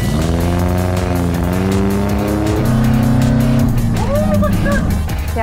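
A race car at full throttle during qualifying, driven in reverse, gives a loud, close engine whine whose pitch climbs through the gears, with voices talking over it.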